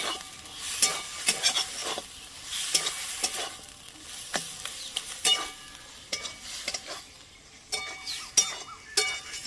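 Taro stem curry with coconut and a little sugar sizzles in a pan while a spoon scrapes and stirs in irregular close strokes over a soft frying hiss.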